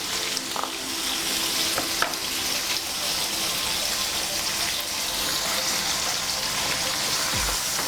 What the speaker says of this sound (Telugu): దీంట్లో వాటర్ దిగే వరకు మనం ఫ్రై చేయాలి